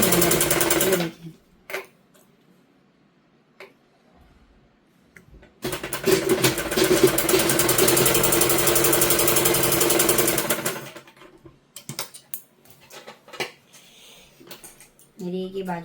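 A sewing machine stitches the sleeve onto a simple suit in a steady run of about five seconds, with shorter bursts and handling noise before and after and brief talk in between.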